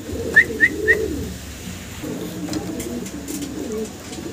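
A pair of pure white Lakha fancy pigeons coo in low, rolling phrases, with three sharp chirps at the start and soft cooing continuing in the background.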